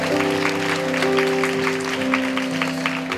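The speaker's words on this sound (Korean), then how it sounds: "우리 큰 사랑의 박수 다시 한번 부탁드리겠습니다." Congregation applause at a youth church service at Onnuri Church in Korea, a steady wash of clapping from the crowd carried over sustained keyboard chords from the worship band.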